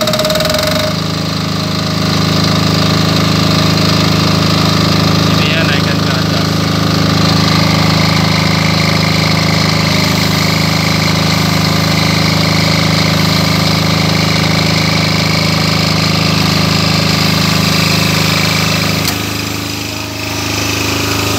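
A Genkii GK9000 generator engine runs loud and close during testing, a steady droning hum with a persistent mechanical rattle, continuing without a break and with no voices.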